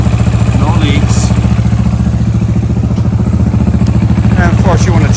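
Honda Hawk 250 motorcycle engine runs at a steady idle after an oil cooler install, a loud, close, rapid even pulsing with mechanical clatter, someone speaking over it.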